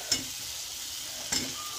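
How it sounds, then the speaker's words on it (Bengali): Fried potatoes being stirred through spice masala in a pan sizzle steadily, with two clear scrapes of a spatula about a second apart and no talking. "ভাজা আলুগুলো দিয়েও আমি ভালো করে মশলাটাকে একটু আলুর সঙ্গে কষিয়ে নেব"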